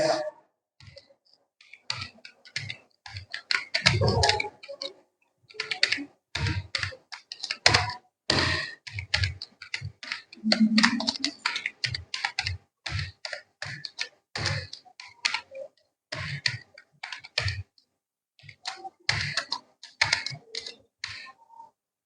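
Rapid close keystrokes on a computer keyboard while a C program is typed, irregular clicking bursts with short pauses throughout, no talk.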